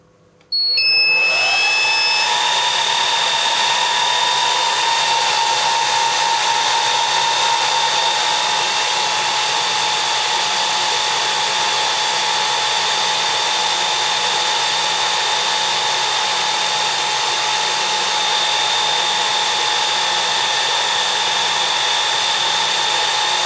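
Cooling fans of a dual Xeon E5 2U rackmount server with eight hot-swap bays, spinning up at full speed on startup; a sudden loud, steady high-pitched whir and whine that holds constant throughout, with no talking.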